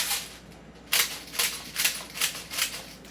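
Shots from a rare non-lethal Beretta pistol crack out as a series of about six sharp, fairly faint reports, spaced roughly every third to half second, with no talking over them.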